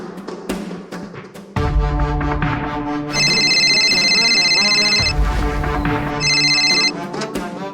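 A phone rings loudly and steadily with a repeating electronic ringtone melody, alone and close, with no one speaking over it.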